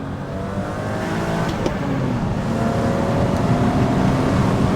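A 3.8-litre BMW E34 M5, a high-mileage right-hand-drive European car, pulls hard through the gears, its engine note rising steadily and loud with no talk over it.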